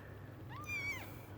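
Single rising and falling meow from a nursing British Shorthair kitten, faint and close over a low steady hum, with no talking.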